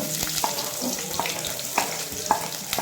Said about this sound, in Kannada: ಆಯಿಲ್ ಕಾಯ್ತಾ ಇದೆ. ಈಗ ನಾನು ಒಂದು ಗಡ್ಡೆ ಈರುಳ್ಳಿ ಹಾಕ್ಕೊತಿದ್ದೀನಿ.